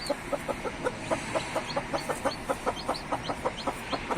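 A white hen clucking steadily in quick, evenly spaced soft calls, a long continuous series at moderate distance over faint background noise.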